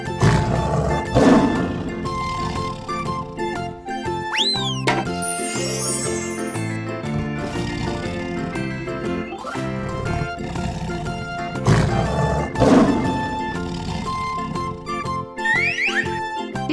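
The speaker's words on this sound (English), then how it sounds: "Tiger." A toy tiger's recorded roar plays with rough growling bursts amid jingly children's music, loud and repeated over a steady musical background.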